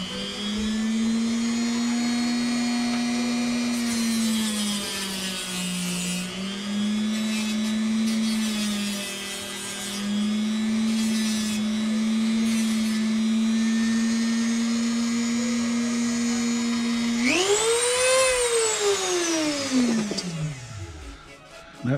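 A power sanding wheel whines steadily while grinding against wood, its pitch dipping under load and then rising sharply as it spins freely before winding down.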